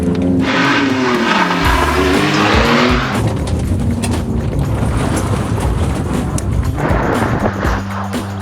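A cheap used Ferrari's engine revs hard nearby, a loud rising roar that drops off and settles into a rough, throaty rumble, with no talking.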